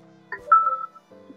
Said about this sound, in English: It's got a text message.